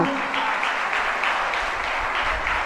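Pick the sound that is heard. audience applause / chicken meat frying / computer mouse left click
audience applause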